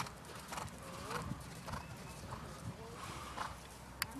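Horse hooves clip-clop steadily at a walking or trotting pace during a riding lesson, moderately close, with a soft whinny and an instructor's voice faintly in the background.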